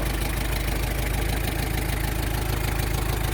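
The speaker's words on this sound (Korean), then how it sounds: "영상에서 보시다시피 엔진 소리는 안 됐습니다." An old Hyundai Porter truck engine with a fault runs rough and steady close up, a dense, knocking idle droning loudly throughout with no voices.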